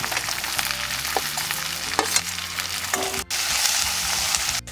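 Potatoes and onions frying in a pan for a besan curry crackle and hiss loudly and close by, with stirring scrapes and clinks running through the sizzle and no talking.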